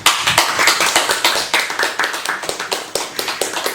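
An audience at a gathering claps in loose rhythm, sharp hand claps repeating roughly every quarter second, close and loud, with a few irregular taps mixed in and no speech over it.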